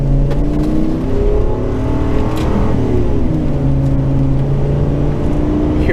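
A Ford V10 6.8 van engine accelerates with a steady loud drone and rising pitch, while loose items rattle and knock around inside the cabin.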